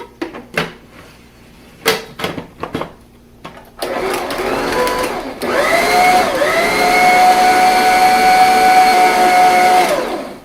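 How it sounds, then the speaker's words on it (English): An electric mixer whips plain cooked potatoes for mashed potatoes: a few knocks and clatters first, then a loud steady motor whine starting up and rising in speed, running on close by. "the first thing I'm going to do is mix the potatoes without anything in it so that they're nice and fluffy first"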